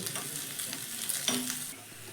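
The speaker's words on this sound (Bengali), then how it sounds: "আর একটু কালার চেঞ্জ করে পেঁয়াজটা ভেজে নেব" Onions fry in a pan with a constant bright sizzle close by, a few stirring scrapes and one sharper clink partway through, the hiss easing slightly near the end.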